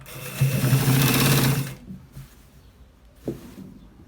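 A sewing machine runs a steady stitching burst while sewing the lower part of a collar shirt, then stops, leaving quieter handling noises and a brief thump near the end.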